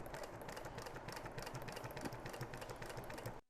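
A sewing machine stitches welt onto a seat cover for a 1962 Chevrolet Bel Air, running in a steady, close, continuous mechanical whir with fast rhythmic stitching pulses throughout.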